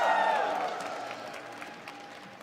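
Crowd at a fighting-game tournament watch party applauding and cheering, a dense burst of clapping loud at first and gradually fading over a couple of seconds.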